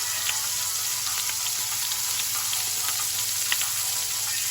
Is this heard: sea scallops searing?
yes